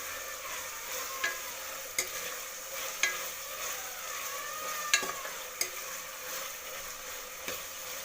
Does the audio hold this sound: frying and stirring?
yes